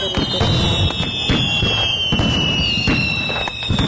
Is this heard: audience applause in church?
no